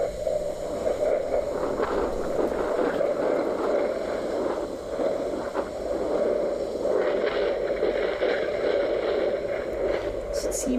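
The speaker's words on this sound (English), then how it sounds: "Seems like another windy day also here in Sorondela." Wind blows steadily at a waterhole in Sorondela, a constant rushing, buffeting noise across the microphone with no breaks, moderately loud and hiss-like for the whole stretch.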